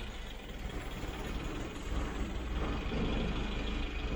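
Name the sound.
Mitsubishi Jeep engine idling with Weber carburetor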